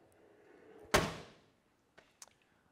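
A single solid car door slam thuds shut nearby on a 1967 Mercury Cougar, followed by a couple of faint small clicks in otherwise quiet surroundings.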